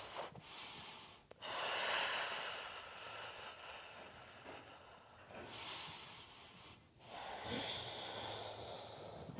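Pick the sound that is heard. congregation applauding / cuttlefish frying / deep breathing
deep breathing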